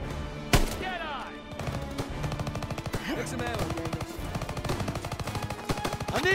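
Rapid automatic gunfire crackles continuously in the video game Call of Duty WWII, dense overlapping shots with a sharp nearby blast early on, while voices shout over the battle.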